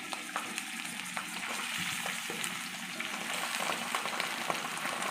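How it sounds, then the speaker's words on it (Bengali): Washed chicken pieces frying in hot oil with already-browned onions, a soft, steady sizzle with scattered small crackles and pops and a few stirring clicks, fairly quiet and without talk. "তেলের মধ্যে ভালো করে ভেজে নেব"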